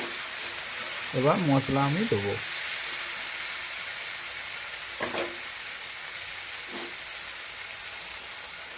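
Vegetables—beans, potato and eggplant—sizzle steadily in a pan at home, a constant frying hiss beneath a person speaking briefly in short phrases.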